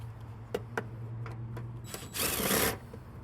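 A tool works the 10mm bolts off a snowblower belt cover: quiet scattered metallic clicks and taps, then a brief louder whirring burst of a power tool spinning a bolt, close by.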